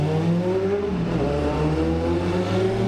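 A little Suzuki GSX-F motorcycle revs hard on a Dublin street, its steady loud engine note holding high with rising harmonic tones, close by and continuous.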